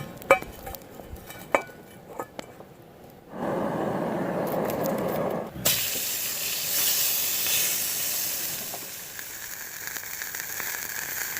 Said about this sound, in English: I have a modern titanium frying pan, which I'm going to throw this hamburger in and cook it over those coals.